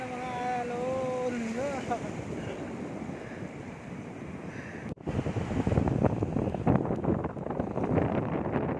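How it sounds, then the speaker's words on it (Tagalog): Ocean waves at a beach in San Fabian, Pangasinan, Philippines wash and surge over steady wind noise, loud and close, after a brief vocal-like tone at the start. "Ayan ang mga alon."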